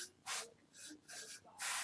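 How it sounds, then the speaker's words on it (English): Cleaner is sprayed onto computer parts in four or five quick, close hissing bursts with short pauses between them, quiet overall. "you can spray that down"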